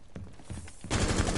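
Gunfire in Rainbow Six Siege: a few scattered shots and footsteps give way to a loud, sustained burst of rapid automatic fire, close and unbroken, with no talking.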